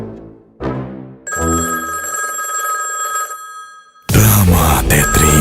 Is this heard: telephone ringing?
yes